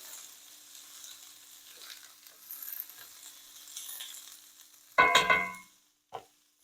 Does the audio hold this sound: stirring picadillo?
yes